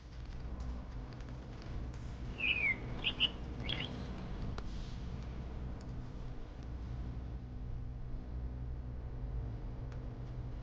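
A pet bird in a smart cage gives a few brief chirps early on over a steady low hum and background noise, then stays quiet while the hum continues.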